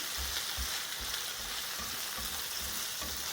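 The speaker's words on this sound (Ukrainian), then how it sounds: "І далі можемо смажити під закритою кришкою хвилинок 5" Steady, close sizzling and crackling of onions frying in a pan, continuous throughout with faint stirring scrapes underneath.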